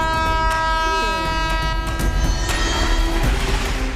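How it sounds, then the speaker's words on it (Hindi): A train nears on a railway track, its sustained horn blaring loudly over a rumbling, rattling rush of wheels in a dramatic film scene. "अबे ट्रेन नहीं, वो मौत आ रही है"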